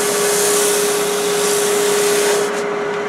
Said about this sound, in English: now I should just completely sand it